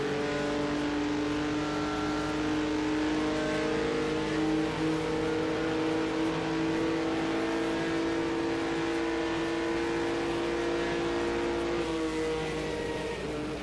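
A 1958 Formula 1 race car at the Italian Grand Prix drones steadily at high revs with tonal engine harmonics, pitch easing slightly near the end, fairly loud and continuous with no talk.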